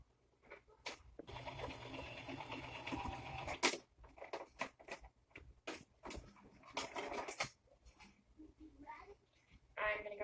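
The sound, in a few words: sewing machine stitching a fabric face mask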